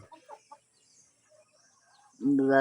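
A few soft, short clucks at the start, then near-quiet, before a louder, sustained chicken squawk breaks in close at the end.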